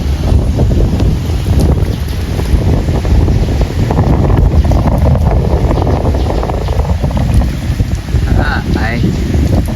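Strong wind at Shamliya Dam buffets the microphone in a continuous loud roar, with water sloshing and a boat-like rumble beneath and a voice briefly audible.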